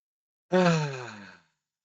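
A single deep inhaled breath, close and clear, rising and then fading over about a second in otherwise silent surroundings.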